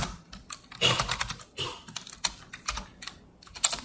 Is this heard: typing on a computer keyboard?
yes